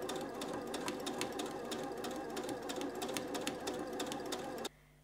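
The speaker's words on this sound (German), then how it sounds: "Und jetzt nähe ich wieder neben dieser Linie entlang hoch." A sewing machine stitches alongside a marked line on a summer dress, a quick rattling run of stitches heard up close that stops abruptly near the end.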